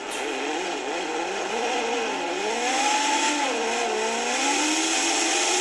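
A race car engine drones steadily then climbs in pitch as it accelerates, a continuous revving whine under a constant background roar, with no voices, from onboard a British Superlite Championship race.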